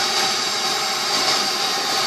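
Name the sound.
Bissell Pet Premiere cleaner working on car upholstery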